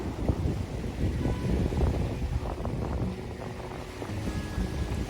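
Steady wind blows across a beach at sunset near Kochi, a continuous broadband rush of breeze and surf with gusty swells and no talk.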